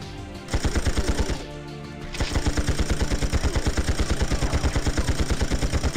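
Rapid automatic gunfire in the James Bond shooter game 007 Tomorrow Never Dies, a steady rattling stream of shots that breaks off briefly near the start and then resumes at an even, fast rhythm, loud and close.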